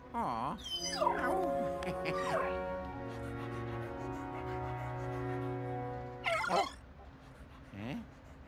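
Ghost dog Polterpup in Luigi's Mansion 3 video game, yipping and whimpering in gliding pitched barks, with a drawn-out tonal whine in the middle and more yips near the end.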